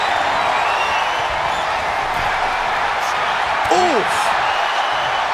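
Wrestling arena crowd at a WWE match between Stone Cold Steve Austin and Roman Reigns, a steady loud roar of cheering filling the space, with a brief voice exclaiming partway through.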